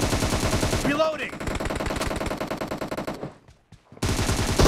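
Rapid automatic M762 rifle fire in a shooter video game, loud sustained bursts of shots with a brief pause for reloading before firing resumes, layered with game voice callouts.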